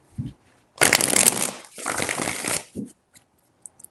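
Tarot cards are shuffled in close, crisp bursts, two long riffling runs bracketed by brief taps and soft handling sounds, with no talking.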